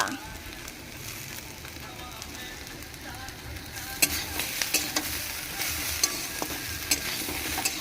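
Ginger is stirred in a curry pan of frying oil, a steady close sizzle overlaid after the midpoint by repeated scraping clinks of the spoon against the pan, with some talk in the background.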